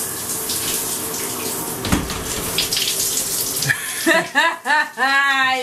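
Water from a running shower streams and splashes steadily at close range, loud and continuous, with a few brief voice-like tones near the end.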